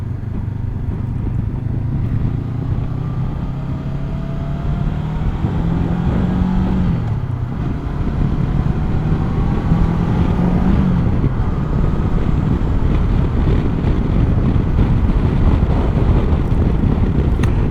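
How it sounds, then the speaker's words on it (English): A 2022 Honda CB500X motorcycle on a test ride, its engine droning steadily as it accelerates through gear changes with rising and dropping pitch, under heavy wind rush. "that's my quick and dirty test ride of the Honda CB500X 2022 model year"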